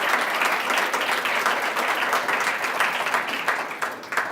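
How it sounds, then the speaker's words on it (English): An audience bursts into sustained applause at a talk, a dense steady clapping that holds for several seconds before tapering slightly at the end, with no talking over it. "So everybody give a big round of applause, and we're going to hear Amy speak."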